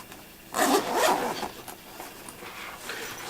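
A zipper on a K&F Concept 10-litre hard shell camera bag is pulled open in one quick rasping burst, followed by faint fabric handling and rustling nearby.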